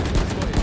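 Gunfire in the tactical shooter Valorant, a short burst of loud, close shots with heavy low-end thumps, a background voice faintly present.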